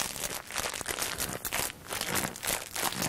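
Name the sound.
starch squeezed to imitate footsteps crunching in snow, foley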